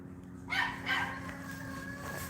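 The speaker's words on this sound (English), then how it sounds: "Oh no, dogs." Dogs bark on a city street, with two quick barks followed by a fainter trailing whine, heard at some distance over a low background hum and no talk.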